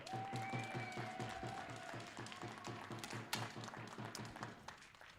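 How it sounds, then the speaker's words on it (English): Audience at a junior women's rifle shooting final applauds the athletes' helpers, a moderately faint, steady round of clapping with a low rhythmic thud underneath, lasting throughout. "So please give them all a great round of applause."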